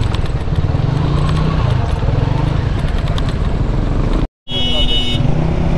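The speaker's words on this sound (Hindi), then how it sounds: "अभी बाइक मैं नहीं चला रहा, ये साजे साहब चला रहे हैं बाइक।" Motorcycle ride on a road in Hyderabad with two riders aboard, the engine and wind roar running loud and steady close by, a horn toot near the end and talking over the noise.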